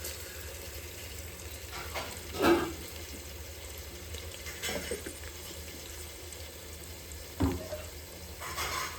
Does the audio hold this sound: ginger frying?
yes